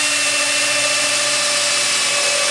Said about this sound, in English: I'm going to be drilling holes first, and I'm going to do it closer to the bottom of the feather edge board.